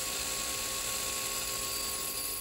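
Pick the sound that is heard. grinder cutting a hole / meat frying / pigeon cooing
grinder cutting a hole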